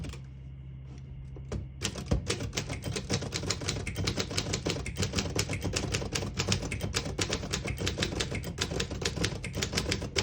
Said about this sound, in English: This is the best sounding typewriter, in my opinion.